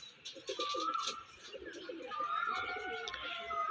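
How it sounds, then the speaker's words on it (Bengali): Domestic pigeons kept by a hobbyist coo softly and repeatedly at close range, with low, rolling calls and a few faint chirps over a quiet background. "আমি আমার বাড়ির সবথেকে পুরনো পায়রা দেখাচ্ছি"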